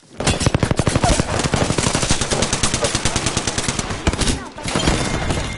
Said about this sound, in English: Yeah, we're being shot.